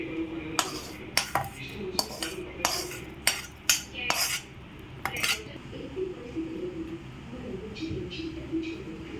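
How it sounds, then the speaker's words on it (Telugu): Cut okra pieces tossed into a pan for a roasted okra chutney with sesame, then stirred with a metal spoon, giving a run of sharp clinks and scrapes that fade into softer sizzling stirring. "ఇప్పుడు బెండకాయ ముక్కలు వేసేస్తాను దీంట్లో."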